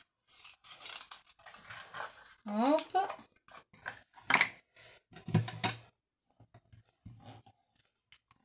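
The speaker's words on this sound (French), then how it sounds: "je me recoupe un morceau de papier" Scissors snip through a piece of paper in short, crisp cuts, close up, while someone talks quietly in French between and over the snips, with a quieter stretch near the end.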